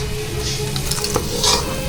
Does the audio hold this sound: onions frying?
yes